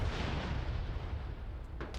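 Gunfire in a multiplayer video game during a competitive match, a dense continuous rumble of shots and blasts filling the clip, loud and steady with a few sharper bursts near the end, no voices.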